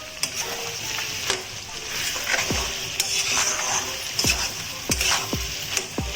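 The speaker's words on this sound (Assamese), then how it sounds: "মাংসখিনি লৰাই আছোঁ" Chicken and potatoes stirred in a sizzling pan, with a spoon scraping and knocking against the metal in irregular strokes over a constant fry.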